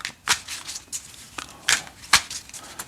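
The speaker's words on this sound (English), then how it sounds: "I'll give a couple more shuffles to the fast action cards." A deck of fast action cards for the Payoff Pitch baseball card game is shuffled by hand at close range, giving several quick, crisp riffling bursts separated by short pauses.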